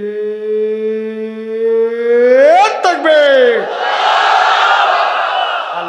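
At an Islamic religious gathering in Chupair, Kaliganj, a single voice holds a long, loud, rising call. A large crowd then answers in a massed roaring chant of Allahu Akbar that fills the space and stays loud to the end.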